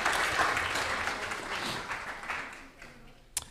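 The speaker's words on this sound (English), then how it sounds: "let's give them another round of applause," Applause from the audience at an ISKCON temple in Dallas, a steady wash of clapping that gradually fades over a few seconds, moderately quiet, ending in a single sharp clap.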